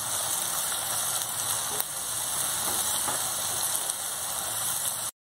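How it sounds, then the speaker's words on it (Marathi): Chopped onion and crushed garlic sauté in a pan for egg bhurji, giving a steady soft sizzle that holds faint and even throughout before cutting off at the end, with no talking. "त्यालाही थोडंसं आपण कांद्याबरोबर परतून घेऊया छान।"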